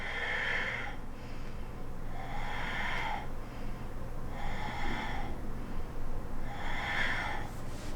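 Slow, steady breathing during a yoga pose in an upper-body mobility class: four distinct breaths at an even rhythm, each roughly a second long, close and clear over a low background hum, with no talking.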